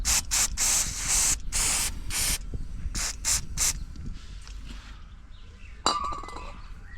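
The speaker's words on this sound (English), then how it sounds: "just clean it with some brake cleaner" Aerosol brake cleaner sprays onto a Honda NT1100 motorcycle brake caliper or disc in several short, loud hissing bursts, then a steady background hiss with a light metallic clink near the end.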